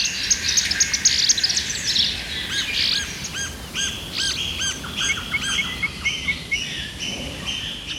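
Small birds in a tree canopy chirp in quick, high, repeated bursts and short trills. Insects hum faintly in the background, and the birdsong continues throughout.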